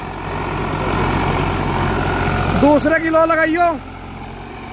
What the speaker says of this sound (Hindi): साफ सुथरा ट्रैक्टर है भाई, 3 सिलेंडर।